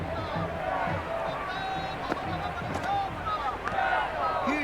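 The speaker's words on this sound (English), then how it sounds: "The crowd is electric right now." Crowd noise at an IPL cricket match between Rajasthan and Mumbai, a steady loud stadium roar and babble lasting throughout with no clear peak, under no distinct talk.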